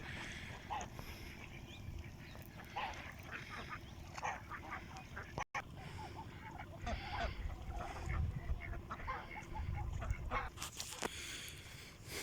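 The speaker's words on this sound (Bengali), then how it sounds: "কিছু হাঁস, অসাধারণ দেখতে।" Ducks on a river at a char area, calling in a series of short honking quacks over steady outdoor background noise, with a brief break midway.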